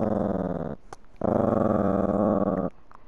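A dog in a Fortnite game session gives two long, low, throaty growls, each sustained for over a second with a short gap between, loud and close, with a faint sharper sound in the pause.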